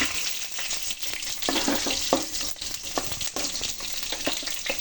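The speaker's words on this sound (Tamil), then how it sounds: "சாம்பார் வெங்காயம் போட்டுக்கிட்டோம்." Small shallots sizzle in hot oil with curry leaves for a Tamil dry fish curry, giving a close, continuous frying hiss with scattered crackles and stirring scrapes.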